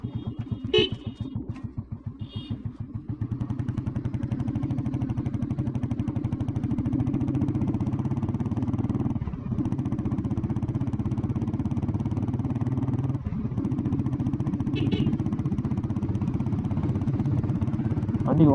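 An old Royal Enfield Bullet motorcycle cruises steadily in top gear, its low thumping engine drone constant and close, with a couple of faint horn toots early on and brief tonal beeps further along.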